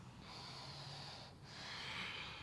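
Deep exhale through the nose during a yoga vinyasa flow, a single soft, airy breath heard close and alone with a brief pause partway through.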